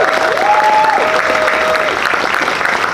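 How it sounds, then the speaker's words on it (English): Crowd applause at an outdoor Pride flag raising ceremony in Windsor-Essex, a steady wash of clapping holding for the full stretch, with a few whistles ringing out over it. "Let's give him a huge round of applause."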